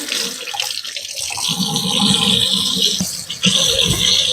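Tap water runs steadily into a cup, measuring half a cup for mixing chicken stock in a home kitchen. The flow is loud and close and continues alone to the end.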